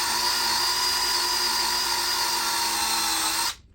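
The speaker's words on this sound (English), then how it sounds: "now I got to auger it out a little bit more" A cordless drill augers a hole into very hard wood for a closet installation, a loud, steady high-pitched whine held for over three seconds before cutting off abruptly.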